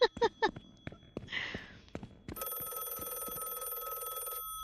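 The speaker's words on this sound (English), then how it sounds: "can't tell where the phone's ringing from." After a few footsteps and short noises, a telephone bell starts ringing loudly in The Last Case of John Morley video game and keeps going steadily for about two seconds.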